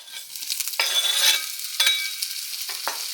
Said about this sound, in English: I've got my sausage all cut up. Now I'm going to add it into my pan.